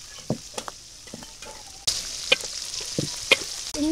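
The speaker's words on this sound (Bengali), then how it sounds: "চিংড়ি মাছ ভাজা হয়ে গেছে, পানি দিয়ে দিলাম।" Shrimp frying in hot oil on a village cooking stove, a steady soft sizzle with scattered clicks and pops, growing louder partway through as more spattering starts, no voices.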